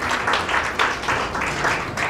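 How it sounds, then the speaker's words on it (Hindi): Audience applause at a Hindi Diwas celebration event in Taipei, a steady wash of clapping from a gathered crowd that holds at an even level for about two seconds with no pauses. "एक तालियों की गड़गड़ाहट के साथ आदेश दे दीजिए"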